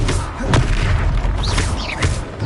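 Confringo, a fire-blast spell in the Hogwarts Legacy video game on PS5, goes off in deep booming bursts: one sharp detonation, then another about a second and a half later, rumbling loudly over a dense battle background.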